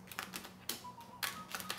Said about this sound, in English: You shuffle your cards.